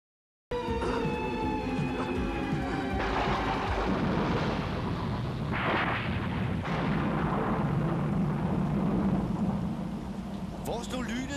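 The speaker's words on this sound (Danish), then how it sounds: "før det holder op med at tordne sådan" Thunder in an animated series rumbles as a deep, rolling roar that builds and lasts about ten seconds, with a tonal musical score fading out at the start and possible voices in the mix.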